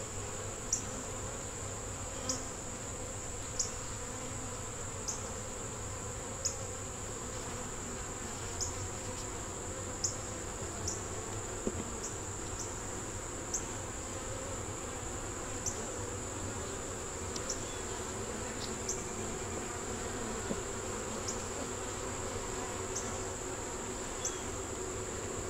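Honey bees hum steadily around an open brood frame lifted from a hive, a dense close drone with a high whining tone and faint regular clicks running through it, no voices.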